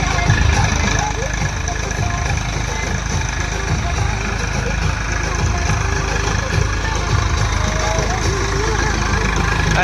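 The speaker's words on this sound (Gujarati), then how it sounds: "એ ટ્રેક્ટર હાકે ને તો હૂતો ટ્રેક્ટર હાંકતો આવે" A tractor engine running steadily as it is driven, a constant low rumbling drone throughout with a voice faintly over it.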